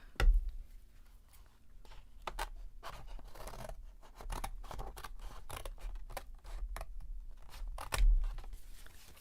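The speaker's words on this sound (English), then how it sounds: "And so I'm going to take and cut a square out of this." Scissors cut a square out of silver paper with a series of crisp snips and rustles, some close together and others spaced apart, quiet and close up, with no talking.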